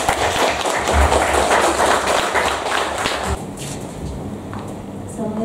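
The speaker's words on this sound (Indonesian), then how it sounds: "Tepuk tangan dulu semangatnya" An audience at a puskesmas (community health centre) gathering in North Jakarta applauds, a dense wash of many hands clapping nearby that fades and thins after a few seconds, with voices faintly underneath.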